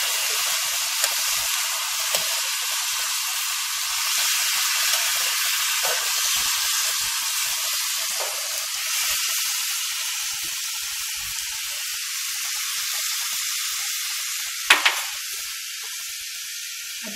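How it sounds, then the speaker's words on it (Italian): Sliced zucchini frying in a pan after releasing their water, giving a steady, close broadband sizzle and hiss that runs the whole time, with one brief sharper crackle near the end. "Adesso che sta bello friggendo"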